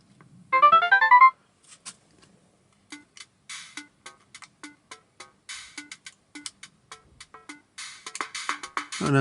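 A 1980s Casio PT-80 mini synth under restoration, its rhythm pattern auto-playing on its own: a brief melodic tone burst, then a steady run of small ticking percussion clicks that grows denser and louder toward the end, with no talking.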